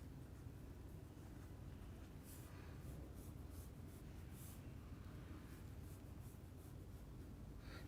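Chalk or marker scratching on a board during a chemistry lecture, a soft continuous rubbing over a steady room hum with no talk.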